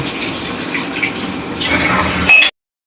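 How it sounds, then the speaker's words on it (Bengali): Broth poured into a pan of tilapia fish curry, a loud close splashing gush of liquid that runs for a couple of seconds and then cuts off abruptly. "আমি ঝোল দিয়ে দিব"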